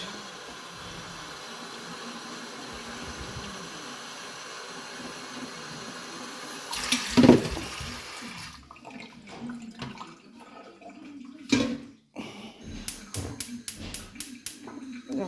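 Running tap water hisses steadily, then stops; clattering and knocking of dishes follow in quick irregular bursts, close by.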